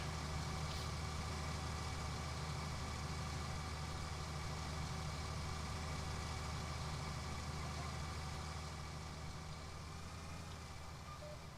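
Steady low engine drone of a combine harvester in the Farming Simulator video game, constant and unchanging for the whole stretch, fading slightly toward the end with no talk over it.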